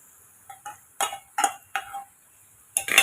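A spatula clinks and scrapes against a pan while raw plantain pieces are stirred, with about six separate metallic knocks spaced through the short stretch. Close, crisp and without talk.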